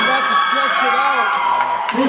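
Children at a youth trivia game show cheer, whoop and shout together for a team, a loud continuous burst of young voices over two seconds.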